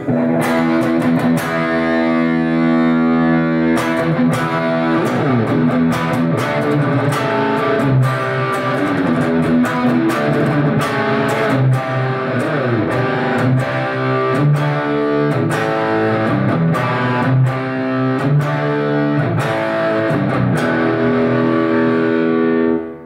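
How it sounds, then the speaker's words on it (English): Electric guitar playing chords and melodic lines, compressed and washed in reverb from a Lexicon MX200 effects unit, loud and continuous throughout. "this is just a little bit of compression and reverb"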